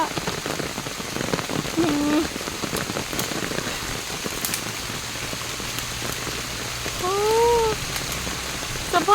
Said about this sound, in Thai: โอ้โห ฝนตก